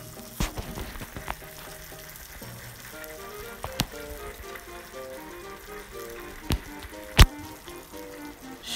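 Atsuage fried tofu sizzles softly and steadily in a frying pan, with a few sharp clacks from turning the pieces over.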